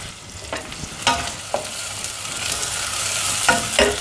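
Shallots sizzling in hot oil, a steady loud crackle with a few sharp stirring clicks and scrapes, close by and with no voices.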